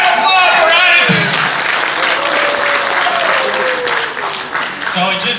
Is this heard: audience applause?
yes